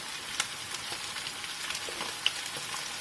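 Chicken pieces fry in a hot pan for a chicken sauté, giving a steady, close sizzle and crackle with a couple of sharp pops and no talking.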